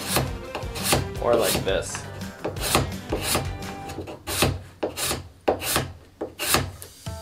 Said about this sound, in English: so you can make a good scrape. Just don't scrape yourself, just the wood.